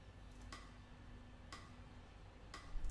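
Metronome ticking at 60 BPM: three sharp, evenly spaced clicks one second apart, quiet and alone over faint background hiss.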